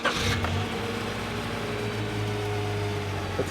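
A 21-year-old Honda Accord SV4 engine catches with a brief starter burst and settles into a low, steady idle hum, close and moderately quiet.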